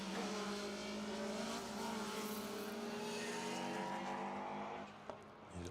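A Citroen C2 rally car drives hard around a circuit stage, its engine droning loudly and steadily with rising and falling revs and faint tyre noise, fading slightly at the end.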